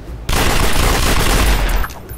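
Rapid, dense gunfire bursts loud and unbroken for about a second and a half in the video game City of Heroes, then cuts off, with no talking.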